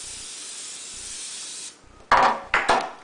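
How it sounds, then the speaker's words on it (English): Cooking spray is sprayed onto a bread pan, a soft steady hiss followed by two short sharper bursts of spray up close, with no talking. "I'm going to spray this pan."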